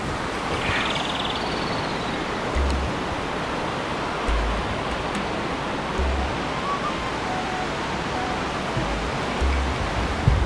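Waterfalls and river rapids in the Amazon jungle give a loud, continuous broadband roar of rushing water, steady and close throughout with no voices.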